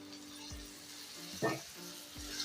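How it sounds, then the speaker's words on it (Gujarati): Tomato puree goes into sizzling masala in a pan for a Gujarati potato curry, a quiet hissing fry under a low hum with one brief, sharper sizzle burst near the middle. "પીસેલા ટમેટાની પ્યુરી આપણે એની અંદર નાખી દઈશું"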